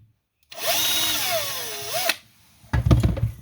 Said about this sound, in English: So I'm going to drill that hole now using the big SDS drill.